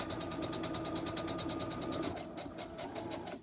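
A sewing machine runs steadily, stitching a seam close to the fabric edge with a fast, even needle rhythm and motor whir that holds for about three seconds, then slows and fades near the end.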